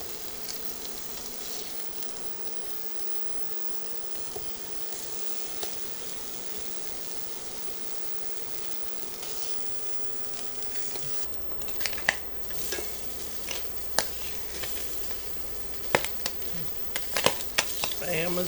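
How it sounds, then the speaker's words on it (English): Spam slices fry in about a tablespoon of butter, a soft steady sizzle that grows busier in the later seconds, with sharp little pops and clicks crackling irregularly near the end, fairly quiet overall. "Spam is popping"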